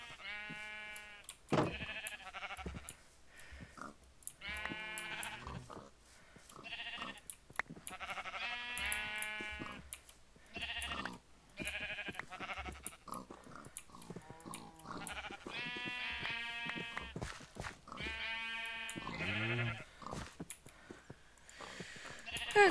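A flock of eight Minecraft sheep keeps up repeated bleating throughout, one wavering call after another at close range, with soft shuffling and light movement sounds between them.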